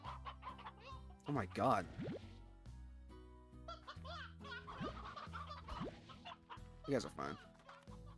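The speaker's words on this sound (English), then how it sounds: "Why did they get three hens? I don't remember getting three roosters." Hens cluck repeatedly in the Slime Rancher video game over a background of game music, with a person talking over the clucking.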